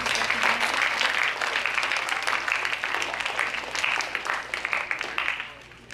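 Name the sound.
audience applause for award recipients at school assembly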